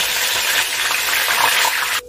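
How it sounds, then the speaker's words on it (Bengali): Mint leaves fry in hot oil with a loud, dense, continuous sizzle that cuts off abruptly just before the end. "এবার আমি দিয়ে দিচ্ছি পুদিনা পাতা, এটাকে আমি একটু ভাজা করে নিচ্ছি।"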